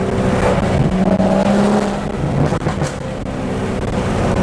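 A BMW B58 engine with upgraded BMS intake piping roaring and revving hard, a dense, raspy growl that swells and dips slightly, close by, with no talking.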